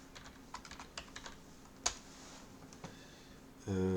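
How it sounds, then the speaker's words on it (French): Quick, light clicks of a computer keyboard as someone types a short search, a brief burst of keystrokes, then a steady electronic tone rises at the end. "Je tape Clamwin."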